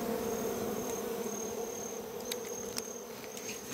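Bees drone steadily at night as honey is harvested from a hive, a faint continuous buzzing hum with a few small clicks and knocks, and no speech.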